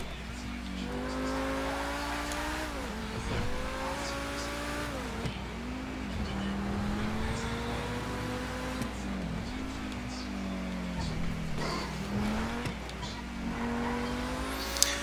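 A Pegassi T20 supercar in GTA Online revs and accelerates through gear changes, its engine note climbing and dropping repeatedly, with brief tire squeals and a steady low drone behind.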